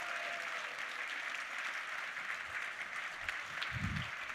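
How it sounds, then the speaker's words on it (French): Audience applauding the performers after the final improv of a show, sustained even clapping heard from within the hall, with a brief low voice near the end. "On peut les applaudir bien fort"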